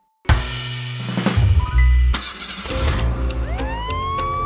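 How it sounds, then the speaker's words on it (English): An animated cartoon ambulance starts up with a loud engine-like rumble and clunks, then its new siren begins wailing with rising, sweeping tones over a busy music-like background. "With a new siren and a shiny flashing light"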